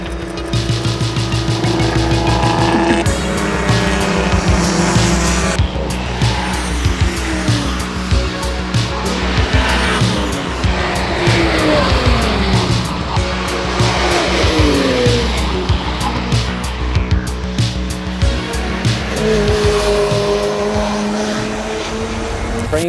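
A BMW E46 M3 race car runs on the Road America track, engine loud and close as it revs hard, shifts and brakes, with tire squeal through corners.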